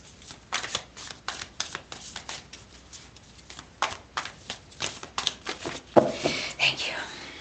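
Tarot cards are shuffled close by in a steady series of riffling bursts with brief pauses between them, under quiet talking.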